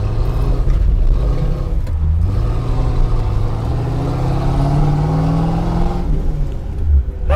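A V8 Plymouth Barracuda rumbles along with a deep, steady engine note that swells slightly as it accelerates, loud and close with no other sounds over it.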